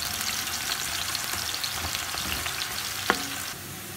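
Sliced onions fry with whole garam masala in hot oil for a biryani, giving a steady, close, broadband sizzle through the whole stretch with one sharp clink near the end and no voices.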